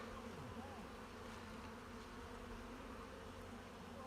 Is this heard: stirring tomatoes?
no